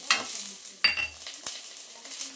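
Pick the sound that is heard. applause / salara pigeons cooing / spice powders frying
spice powders frying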